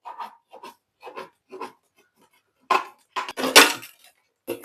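A heated knife cutting a hole in a pot meant for a money plant, heard as several light, scratchy taps early on, then louder rough crackling, scraping bursts near the end.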